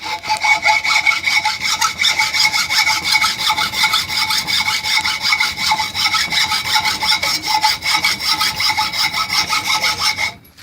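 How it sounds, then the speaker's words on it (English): A hand saw cuts through a wooden board clamped in a vise, a loud, close, steady rasping with rapid regular back-and-forth strokes that continues alone for about ten seconds. "I'm going to go ahead and chop this piece of board up after chucking it up in the vise"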